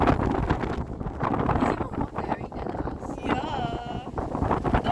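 Strong mountain wind buffets the microphone on a trail on Mount Batur in Bali, a continuous loud roar and rumble with people talking over it throughout.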